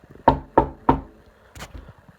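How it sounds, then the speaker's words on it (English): Three sharp, evenly spaced knocks on a door ring out close by in a quiet room, followed by a softer, duller thump a moment later. "It was a knock at my door."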